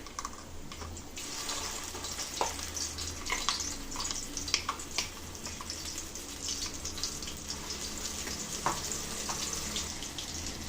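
Ground masala paste frying in ghee for mutton ghee roast, a dense continuous sizzle with scattered crackles and pops, steady and fairly close, no talking.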